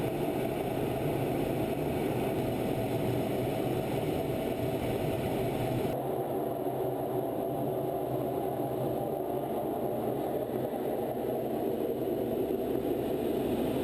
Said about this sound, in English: The sky is torn apart by the thunder of tiltrotor engines.